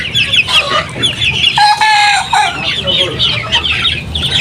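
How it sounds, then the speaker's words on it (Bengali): Chickens cluck and squawk close by while eating water hyacinth, a busy stream of short, overlapping calls with a few sharper cries. "দেখেন কিভাবে মুরগিগুলা খাইতে চাইছে।"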